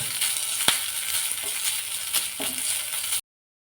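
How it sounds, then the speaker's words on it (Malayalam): A lentil curry with grated coconut is stirred in a pan: a steady, soft sizzle with occasional scraping clicks of the spoon, ending in an abrupt silence. "തേങ്ങ 1 ടീസ്പൂൺ ചേർത്തിട്ട് നല്ലപോലെ ഇളക്കിയാണ്."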